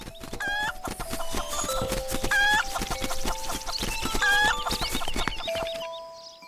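A rooster in Zelda: Link's Awakening gives a series of synthesized clucks, several bright squawky calls repeating over a steady game music backdrop, loud and close with no talking.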